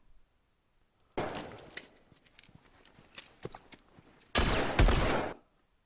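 Gunshots in a video game: a short cluster of sharp reports, then a louder, sustained burst of fire near the end, with no talking.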